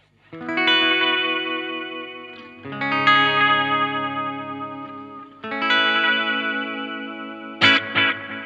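Sustained guitar chords ring out through a pedal's slowest delay setting, slow echoing repeats that shimmer and waver slightly in pitch, alone without talk.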